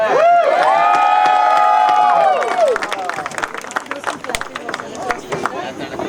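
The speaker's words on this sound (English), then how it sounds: "could we have a round of applause for the beautiful couple?" Guests at a wedding reception applaud the couple, with a scattered burst of clapping and some cheering following a sustained vocal tone, with voices mixed in.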